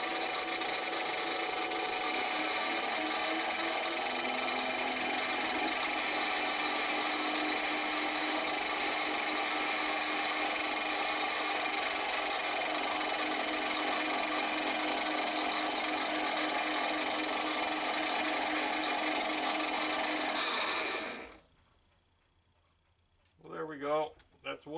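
A cut metal rod end is trued up on a machine tool, taking a few thousandths off the end, producing a continuous loud grinding, scraping cut for about twenty seconds before stopping abruptly, followed by brief faint sounds.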